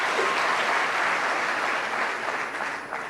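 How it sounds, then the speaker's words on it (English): An audience at a 2016 presidential debate applauds the organizers with loud, continuous clapping that holds steady and then eases slightly toward the end. "Please clap for them."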